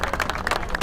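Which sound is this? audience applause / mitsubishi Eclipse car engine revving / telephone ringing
audience applause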